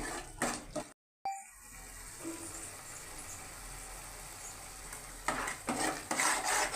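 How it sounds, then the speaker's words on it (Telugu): Fish curry masala frying in oil on a medium flame while being stirred, a soft low sizzle with spoon scrapes and brief clatters, dropping out for a moment near the start and growing busier toward the end. "ఇలా మీడియం ఫ్లేమ్లో పెట్టి ఫ్రై చేసుకుంటే చేతి మీదకి తుల్లదు. ఆయిల్ అనేది బయటికి వచ్చినంత వరకు అలా కలుపుతూనే ఉండాలి, అడుగు పట్టకుండా."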